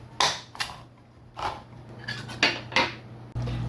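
Chickpeas from a can go into a pot of veggie soup with a few close, sharp metallic clinks and scrapes of can and spoon against the pot, spaced irregularly over a few seconds, with no talking.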